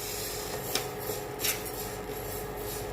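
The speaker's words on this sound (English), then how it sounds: "We will roast this Moong dal now." Moong dal roasts in a pan while a spoon stirs it, giving soft, steady scraping with a few faint metallic clinks against the pan.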